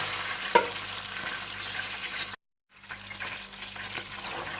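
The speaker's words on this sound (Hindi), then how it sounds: "और इसमें आप साबुत जीरा और कटी हुई प्याज डाल दें" Whole cumin seeds and chopped onion frying in hot oil for chicken pulao, a dense, close crackling sizzle with stirring scrapes, cut by a brief moment of silence before the sizzling resumes.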